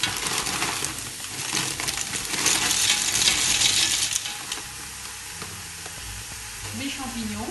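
Vegetables sauté in a pan at a steady hiss with stirring scrapes, louder in the middle and then settling to a softer sizzle, with a voice talking faintly at the end.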